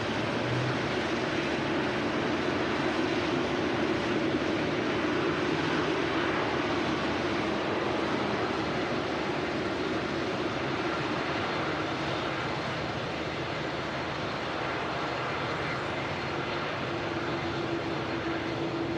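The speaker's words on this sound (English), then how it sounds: "Great view there, the TUI Dreamliner on the taxi in the sun." A TUI Boeing Dreamliner taxis at Manchester Airport. Its engines give a steady, moderately distant roar and whine that holds level throughout, with no speech.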